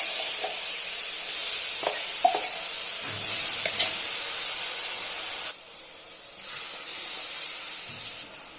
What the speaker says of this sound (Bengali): এই সময় গ্যাসের আঁচটাকে একদম বাড়িয়ে দেব, দিয়ে মশলাগুলোকে কষিয়ে নেব।